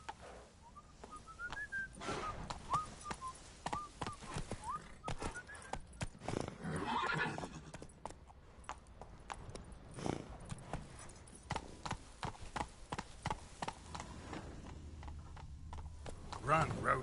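Roach the horse trots with rhythmic clip-clop hooves in Witcher 3, mixed with whinnies, a whistle and game sounds, under speech.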